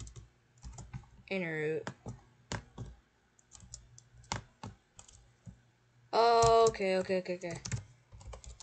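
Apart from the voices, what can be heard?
typing on a computer keyboard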